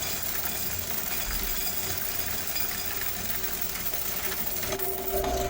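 A coin counting machine sorting laundromat quarters, a dense continuous mechanical whir and rattle close by with a steady, unbroken texture.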